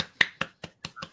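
Finger snaps from a small audience cheering, five crisp close snaps in a steady rhythm about a fifth of a second apart, alone with no talk.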